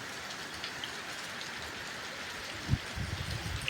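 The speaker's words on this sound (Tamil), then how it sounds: "நான் இருக்கிறப்ப ஏன் மழை பெய்யுற?" Steady rain falls outdoors, a continuous close hiss of drops on surfaces, with a slightly louder thump and heavier spattering near the end.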